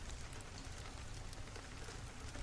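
Steady rain falls on a surface near a lake, a dense even hiss of drops that runs without a break and without any voices.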